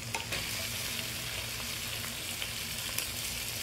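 Shrimp seasoned with salt and pepper fry in a pan, giving a steady, close sizzle throughout with faint scraping and light clinks on top.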